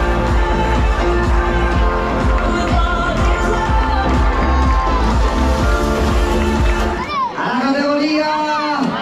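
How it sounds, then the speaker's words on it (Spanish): Crowd at a town road race awards ceremony cheering and clapping loudly with music playing, fading near the end as a voice takes over. "¡Fuerte aplauso!"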